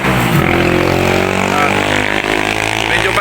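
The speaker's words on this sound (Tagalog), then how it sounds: "Medyo maingay yung location natin dahil nga nandito tayo sa tabing kalsada" Roadside traffic beside a mountain road near Kennon Road and its tunnel at Luacan, a steady loud rumble of passing engines, motorcycles and cars blended together while someone talks over it continuously.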